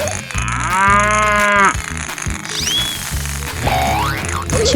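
A cartoon cow moos loudly in a 3D animal slide game, one long drawn-out call over bouncy game music and sound effects, with no talking.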